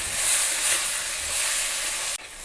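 Prawns and potato roast stirred in a hot pan, a loud, dense, continuous sizzle and hiss up close, dropping abruptly near the end as the stirring shifts.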